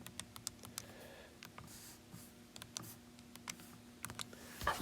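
Keys tapped on a calculator or computer to enter numbers, a run of quick, light clicks at an uneven pace, close by and fairly quiet, with no talking.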